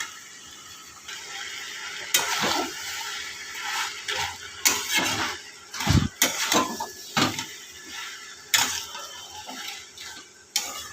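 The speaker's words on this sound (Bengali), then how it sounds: "এবার এর মধ্যে ভেজে রাখা মাছের মাথাগুলো দিয়ে দেব। দিয়ে ভালো করে নেড়ে নেব।" Fried fish heads are stirred into a pot of greens and fish curry, a spoon scraping and clinking against the pan in irregular bursts over a faint background sizzle.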